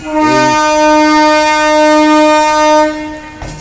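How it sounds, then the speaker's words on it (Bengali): A Naihati local train at Bandel station blares a long, loud sustained horn close by, with the rumble of the passing train underneath, ending abruptly. "আর এই যে ট্রেনটি যাচ্ছে এটি হচ্ছে নৈহাটি লোকাল"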